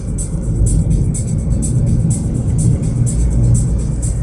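Perodua Ativa 1.0 Turbo SUV on the road, a steady low interior drone of engine and tyre rumble heard from inside the cabin, continuous and fairly loud throughout.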